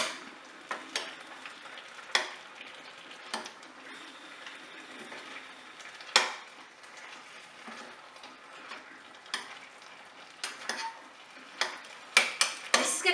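A spoon stirs butternut squash curry and spices in a pot, giving intermittent scrapes and clinks over a soft, steady background sizzle.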